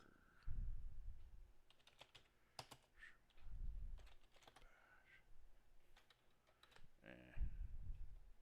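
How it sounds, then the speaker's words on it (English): Keys clatter on a computer keyboard in uneven bursts of clicks during a late-night Docker terminal session, with a voice speaking briefly between the typing. "My typing's not doing so great tonight."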